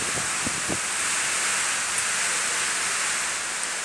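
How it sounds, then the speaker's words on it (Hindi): Steady slanting rain falling outdoors in gusty wind, a dense even hiss that runs throughout with a few soft low thumps near the start. "स्लैंट बारिश हो रहा है"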